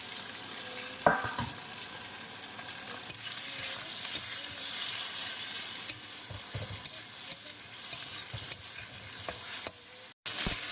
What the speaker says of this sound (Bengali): এগুলো এখন মাছের ডিমগুলো ভাজি